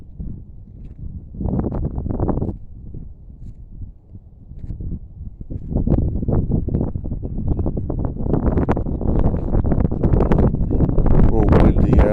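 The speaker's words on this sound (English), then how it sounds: "A little windy out here. Sorry, I hope it doesn't affect the audio." Wind gusts buffet an outdoor microphone as low, rumbling roar, fairly calm at first and then swelling into a steady, heavier buffeting over the second half, with no clear speech.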